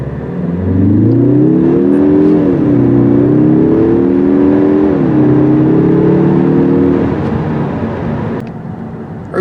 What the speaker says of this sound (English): Let's do a quick 0 to 60.